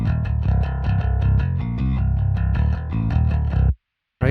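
A heavy, distorted bass guitar through a bx_subfilter low-end enhancer plays a steady run of punchy low notes with a deep rumble, stopping abruptly before a brief burst at the very end.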